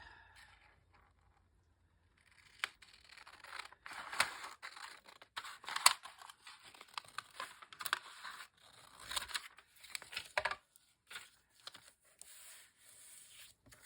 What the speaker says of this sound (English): Alright, so I'm going to cut it here.